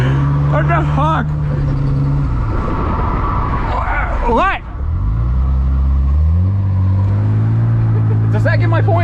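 A drift car's engine revs and drones loudly at close range through a tandem drift run, its pitch rising and falling with throttle changes, while a person talks over it.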